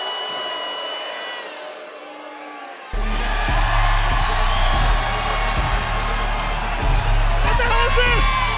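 A wrestling arena crowd erupts into loud, sustained cheering and whooping from a large audience, after a quieter stretch where a woman addresses them over a microphone.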